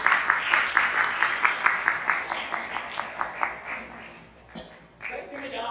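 An audience claps in a quick, steady rhythm at a Spanish-language talk, the beats loud and even at first, then thinning and fading before a brief murmur.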